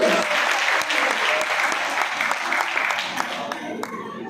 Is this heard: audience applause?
yes